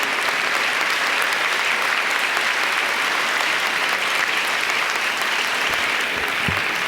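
Sustained, dense applause from a large crowd honoring graduates at an inaugural commencement ceremony, steady and loud throughout with no break.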